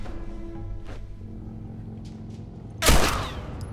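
A single loud gunshot from The Last of Us Remastered cracks out near the end, over a steady game background hum with a few fainter sounds earlier.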